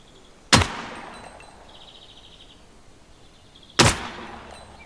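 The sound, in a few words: semi-automatic gunfire in the video game Gunsmith Simulator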